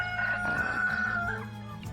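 A rooster in a chicken coop with pastured birds gives one loud, close crow lasting over a second, its strained call rising and then trailing off.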